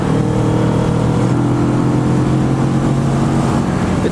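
A 2015 Kawasaki Vulcan S motorcycle engine drones steadily while riding, a loud, constant low rumble with wind noise throughout and no speech.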